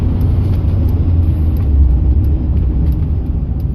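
Strong wind blows in a steady, loud, low roar that buffets continuously without a break.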